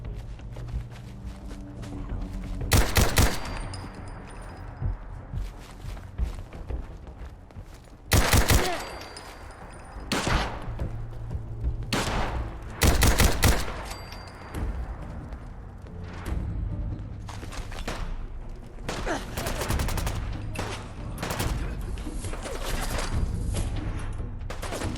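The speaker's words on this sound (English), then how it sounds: "With all the bullets flying everywhere." Bursts of gunfire in the Fallout 4 Nuka World game, with several loud sharp volleys standing out over a steady backdrop of scattered shots and footsteps, the firing recurring irregularly throughout.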